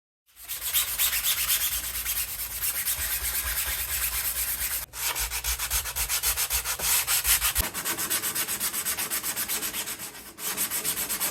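Hand sanding of recessed wooden deadlight (porthole) parts for a small mini-cruiser boat: a steady, close, rasping scrub in rapid back-and-forth strokes that runs almost continuously, broken by two brief pauses.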